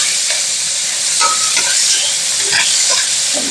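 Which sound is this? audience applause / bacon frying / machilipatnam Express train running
bacon frying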